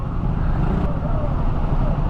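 Road traffic idles and rolls through an intersection in hot summer weather, a steady, dense rumble of car and vehicle engines close by with no break, heard on the way through the junction.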